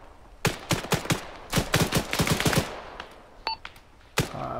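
Automatic and rifle gunfire in the military shooter ARMA 3 rattles off in rapid overlapping bursts during a firefight, with loud close shots, a brief pause and one more sharp report near the end.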